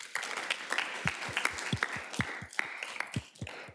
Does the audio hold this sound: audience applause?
yes